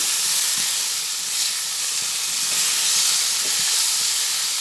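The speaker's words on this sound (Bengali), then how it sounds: "লঙ্কা গুঁড়ো দিয়ে আবার একটু আলতো হাতেই ওলট পালক করে দিচ্ছি" Kochur loti with chilli powder fries in a pan while being gently turned, a loud, steady, close hiss of sizzling with faint soft knocks of the spoon beneath, no talking.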